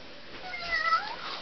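A cat lets out a single faint, drawn-out meow at close range, rising then falling. It stands alone against quiet room noise, with no talking.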